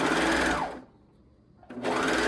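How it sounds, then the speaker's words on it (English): Sewing machine stitching the side seam of a leotard made from an Under Armour shirt: a steady, fast mechanical whir that eases off briefly in the middle, then resumes at full speed, close and loud with no talking. "Now I'm going to sew the other side seam and the crotch"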